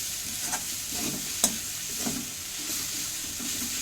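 Onions and vegetables for lemon veg idiyappam sautéing in a pan, a steady soft sizzle with a few faint stirring taps, heard alone without speech.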